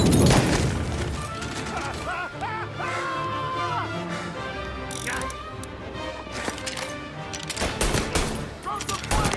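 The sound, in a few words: gunfire in video game Mafia Definitive Edition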